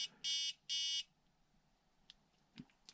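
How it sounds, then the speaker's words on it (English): A Flysky FS-G7P 7-channel car, boat and tank radio transmitter sounds its low-voltage alarm: two loud, shrill buzzing beeps in quick succession, followed by near-silence with a few faint clicks and handling taps. "because we have low voltage alarm now"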